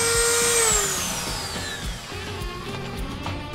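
Rotary tool fitted with a high-speed cutter accessory, a high whine that drops in pitch as it bites into the workpiece, then continues cutting with gritty scraping, close and fairly loud.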